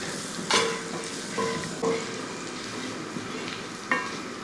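A spiced onion and egg mixture, seasoned with a pinch of masala powder and black pepper, is stirred in a hot pan, giving a steady sizzle with a few louder scraping strokes, near and alone.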